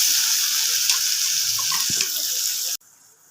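Ground masala paste frying in a pan for a meal maker curry, a loud steady sizzle with a couple of stirring knocks, stopping abruptly near the end.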